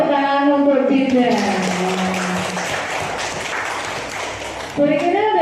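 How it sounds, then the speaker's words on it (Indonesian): Classroom applause for a student named Dinda, a steady wash of clapping from a group that follows a teacher's voice and fades before she speaks again. "Ini tepuk tangan untuk Dinda."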